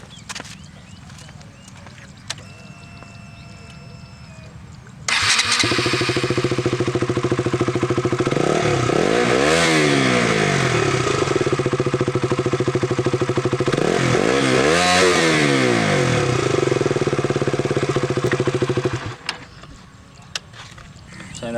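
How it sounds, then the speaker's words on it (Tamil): A KTM BS4 motorcycle with an underbelly exhaust, 2017 model, starts abruptly and revs loudly nearby for about fourteen seconds, with two rising-and-falling throttle blips in the middle, before cutting off to quiet. "இந்த பைக்கோட சவுண்ட் கேட்கலாம். அண்டர்பில் எக்ஸாஸ்ட் தான் இது."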